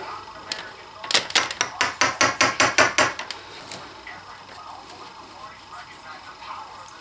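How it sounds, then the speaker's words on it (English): A hammer taps a flat screwdriver to work a rubber connection free on a Suzuki RF 900/600 motorcycle, about a dozen quick metallic knocks in a steady run, with brief talk before and after. "So I'm going to use a flat screwdriver and the hammer"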